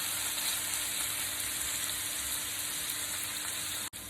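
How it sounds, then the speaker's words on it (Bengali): Chopped onions frying in hot mustard oil for an eggplant achari dish, a steady close sizzle with fine crackle, continuous and even throughout, ending with a brief knock. "পেঁয়াজটা একটু হালকা ব্রাউন হয়ে আসছে, আমার আর বেশি ভাজার দরকার নাই।"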